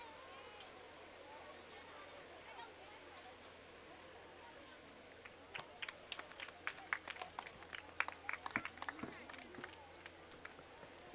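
Audience at a school annual social gathering and prize distribution breaks into scattered, building applause for a student, with claps starting thinly then thickening into a crowd ovation under a quiet room murmur.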